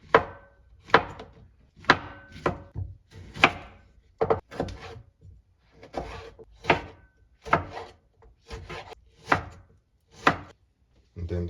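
A knife chops mushrooms on a cutting board in sharp, evenly spaced strokes, about a dozen clear thuds ringing out close and alone in a quiet kitchen.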